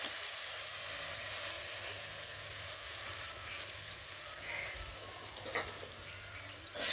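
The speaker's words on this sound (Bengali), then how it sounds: "দেখো একটু তেল বেশি করে আলুগুলো ভাজা ভাজা করে তুলে নেব।" Potatoes fry in plenty of oil, with turmeric added, as part of a river snail dish. A steady, quiet sizzle hisses on without any talk.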